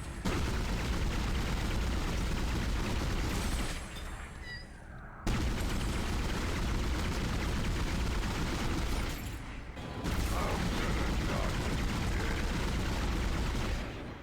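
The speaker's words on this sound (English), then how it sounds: "here's a fairly entry-level pulse rifle in the original" A basic pulse rifle fires in sustained bursts in an original video game, a dense, loud rattling stream of shots with two short pauses between bursts.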